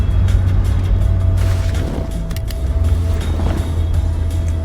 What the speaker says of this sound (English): It's a pity about the traffic.